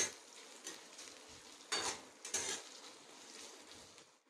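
Chopped onions sautéing in a pan for a soybean dish, a quiet continuous sizzle broken by occasional spatula strokes and a couple of louder scraping stirs near the middle.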